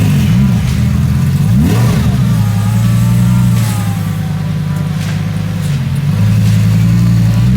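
A Lamborghini supercar engine runs loud and close, rising in revs with sweeping pitch changes over a constant deep drone, heard alone without talk.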